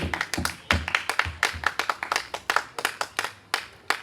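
A church congregation applauds with brisk, fairly even hand clapping, many close claps in a quick steady rhythm for a few seconds, with no talking over it.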